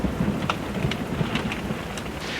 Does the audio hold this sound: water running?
no